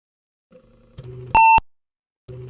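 An emulated IBM 5150 booting in MAME, with short low buzzing bursts of simulated disk-drive seeking on either side of a single loud, clean electronic beep, all in otherwise silent surroundings.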